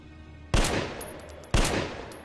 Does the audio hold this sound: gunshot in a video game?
yes